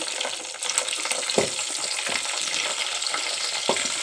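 Green chilies crackling and sizzling in hot oil with spices for brown rice khichdi, a steady broadband fry with a few sharper pops and stirring touches, close and alone.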